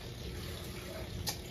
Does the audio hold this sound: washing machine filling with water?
yes